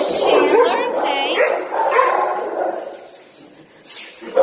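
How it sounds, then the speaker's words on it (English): Dogs in an animal shelter's kennel room, with yips and barks echoing through the space under continuous, busy background noise that rises and falls across the stretch, ending with a louder burst. "We're going to take Shake back through the dog room and put him back in his kennel."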